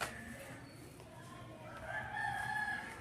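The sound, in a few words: chickens crowing and clucking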